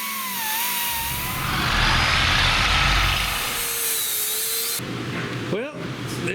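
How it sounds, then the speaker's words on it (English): A reciprocating saw cuts off the stock rubber bump stop on a Jeep JT Gladiator during a suspension install, a loud continuous buzzing rasp that runs for several seconds with brief pitch changes before stopping. "So the next step is a little careful sawzalling"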